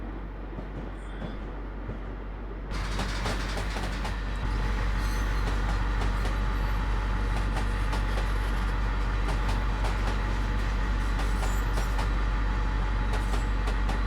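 An Amtrak P42DC diesel locomotive running in Train Simulator, heard as a steady rumbling drone that grows louder after a few seconds and then holds a constant engine hum with rail noise.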